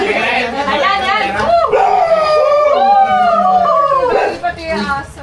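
A dog howls and yips in long wavering tones over several seconds, loud and close, amid a noisy Christmas Day gathering with people talking and counting money throughout.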